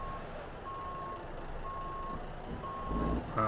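A truck's reversing alarm beeps steadily in American Truck Simulator, sounding four or five evenly spaced tones over a low engine rumble, with a sharper clunk at the end.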